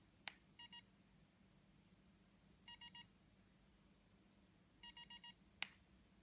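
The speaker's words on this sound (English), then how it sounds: "indicated by 4 beeps, we're now in what we call motion mode" Three quick groups of three or four short electronic beeps from an ElectraStim EM48 remote-control stimulator's receiver, evenly spaced, sound faintly over a quiet background hum, with a couple of sharp clicks.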